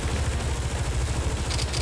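Rapid automatic gunfire from a 900 RPM Destiny weapon in Garry's Mod, a steady dense stream of shots sustained throughout, loud and close with no talk.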